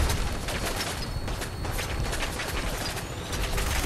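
Rapid minigun fire in Fallout 4, a dense continuous roar of rattling shots held steady and loud throughout.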